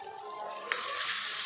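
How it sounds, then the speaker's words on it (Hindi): Masala with tomato paste fries in a pan for stuffed brinjal, a close, steady sizzle with a single sharp scrape of stirring partway through and no voices. "अब इसको भी हम 5 मिनट तक अच्छे से भूनेंगे चलाते हुए"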